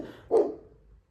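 A single short, close bark from a dog, moderately loud, fading quickly into quiet.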